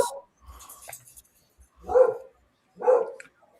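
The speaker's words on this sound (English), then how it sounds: "Whose dog is losing their shit?" Two loud dog barks about a second apart from a dog nearby, following fainter yips and whimpers, with no talking.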